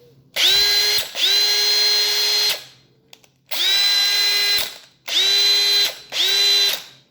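A Makita DHP458 18V cordless drill, freshly fitted with new brushes, runs in five loud bursts of one to two seconds each, winding up to a steady whine and cutting off between runs, with no talk.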